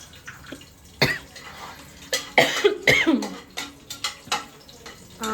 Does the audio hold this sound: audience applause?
no